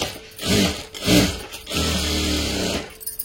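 A sewing machine runs in short bursts, stitching a cross strip onto a blouse: two quick runs, then a longer steady whir, close by and with no talk.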